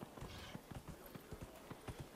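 Horse hooves clip-clop in a steady trotting rhythm in the video game Dragon Age Inquisition, quiet and even, with soft game ambience behind the repeated footfalls.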